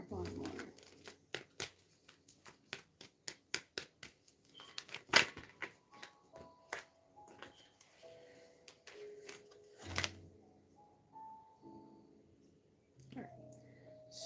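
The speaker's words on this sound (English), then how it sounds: "Let's get one more card from here." Tarot cards handled and drawn from a deck, a quick series of crisp flicks and riffling snaps followed by softer slides and shuffles, close up, with no talking.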